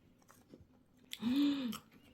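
Close, quiet chewing of a Mont Blanc pastry topped with meringue at a Busan bakery café, with soft bites and a short hummed murmur from the eater.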